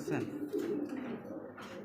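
Low, soft cooing of a Silver Baga pigeon in a few rolling phrases, close by, with a voice speaking over it.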